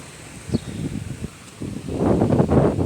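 Strong wind buffets the microphone outdoors as a soft broadband rush with gusts that swell louder toward the end, no voices.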